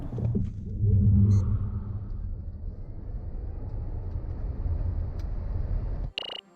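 A Genesis eG80 electric car accelerates hard from a launch, heard from inside the cabin as a swelling low road and tire rumble that holds steady and loud for several seconds before cutting off abruptly.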